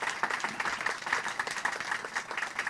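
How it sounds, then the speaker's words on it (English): A conference audience applauds the panelists of a green bond finance panel with steady, moderate clapping. It sounds like a medium-sized room heard from some distance, with no voices over it. "give it a round of applause to our second panelists"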